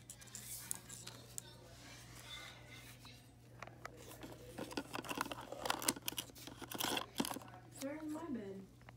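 Scissors snipping and tearing into a package, with irregular close clicks, cuts and plastic crinkles scattered over a steady low hum.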